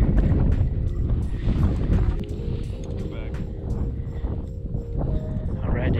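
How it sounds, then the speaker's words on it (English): Strong gusting wind on a frozen reservoir during an ice fishing trip, a heavy rumbling roar buffeting the microphone, loudest at the start and near the end, with faint voices in between. "All right, that wind is picking up, guys."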